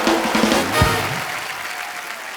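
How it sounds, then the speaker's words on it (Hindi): A studio audience on a comedy show breaks into loud, sustained applause to welcome actress Anushka Sharma, a dense wash of clapping that holds steady throughout. "जोरदार तालियों से अनुष्का का स्वागत।"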